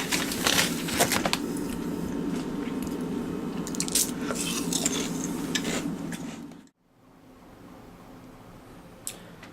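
Crunchy bites of salt and vinegar chips, a close, dense run of crisp chewing and crackling that stops abruptly, followed by quieter room tone with one small click.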